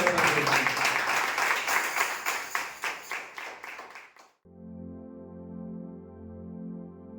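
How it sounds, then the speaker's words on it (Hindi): A church congregation claps loudly during a Sunday service, a dense, steady burst of applause that thins over about four seconds and cuts off abruptly. A steady, sustained droning tone follows. "आइए हम लोग यीशु मसीह के जोरदार तालियों से"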